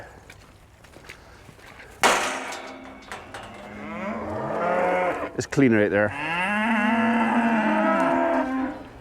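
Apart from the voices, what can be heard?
cows mooing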